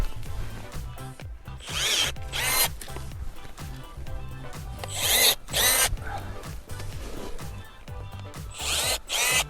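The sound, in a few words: Milwaukee battery-powered pruner cutting branches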